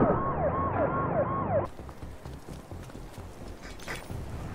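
An ambulance siren in the game Spider-Man 2 on PS5 wails in a steady rising-and-falling pattern, loud at first, then cuts off abruptly, leaving clopping hooves and city ambience.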